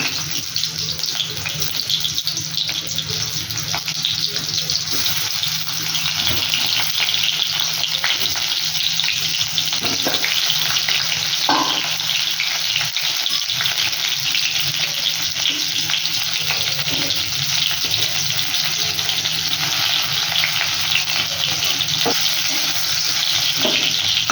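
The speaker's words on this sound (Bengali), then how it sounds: "এরপরে আলুগুলো এর মধ্যে দিয়ে তেলটা একটু হালকা হালকা করে একটু লাল লাল করে ভেজে নেব" Potatoes frying in hot oil for Kashmiri aloo dum give a loud, continuous, close sizzle that holds steady throughout, with occasional faint clinks and no one talking.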